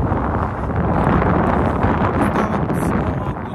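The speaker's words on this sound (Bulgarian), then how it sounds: "Сериозен вятър, нямам представа дали чувате нещо." Strong wind buffets the microphone on a mountain pass at about 1370 metres on the E4 hiking trail, a loud continuous roar with gusty swells throughout.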